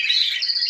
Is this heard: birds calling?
yes